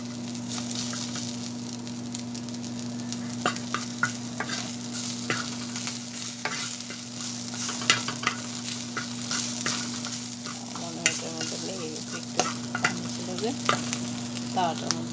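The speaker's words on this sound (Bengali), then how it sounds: "আবার এখন বেগুন ভাজি করব আর ভর্তা বানাবো" Eggplant frying in oil in a pan: a continuous, busy crackle and sizzle with dense small pops, steady throughout over a faint low electrical hum.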